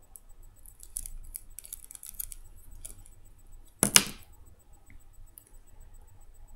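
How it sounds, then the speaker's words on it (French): A craft cutter trims the edges of polymer clay (Fimo). One crisp, close cut stands out against faint handling noises and quiet room tone, with no speech. "Ensuite, avec votre cutter, vous allez enlever les bords."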